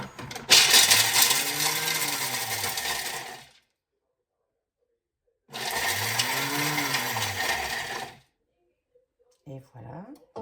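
A Thermomix TM7 chops 60 grams of ingredients in two loud whirring bursts of a few seconds each, blades rising and falling in pitch, separated by silence, followed by faint clicks and brief handling.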